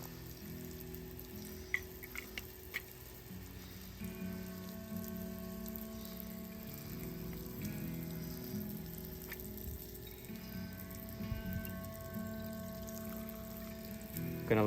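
Purified water running steadily from a water-fed window-cleaning pole system, a soft continuous splashing and trickling heard alone, with faint clicks and tonal hum in the background.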